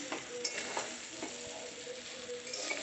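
Chow mein with vegetables and soybean fries in a pan, a steady sizzle with scraping stirring strokes and occasional clatter of the utensil, close and continuous without talk.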